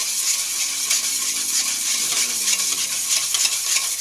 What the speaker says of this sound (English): So I'm going to use the same whisk as I did for the dry ingredients.